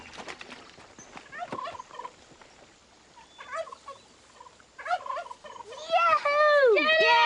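A turkey gobbles near the end in a loud rapid burst along Turkey Creek, after scattered quiet clucks and rustling.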